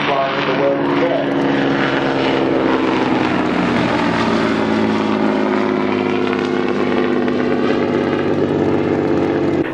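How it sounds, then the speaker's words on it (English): A Hawker Demon biplane flies overhead at an air display, its propeller engine droning loud and steady with a sustained tone throughout, as an announcer talks over it. "This is the only Hawker Demon flying in the world today."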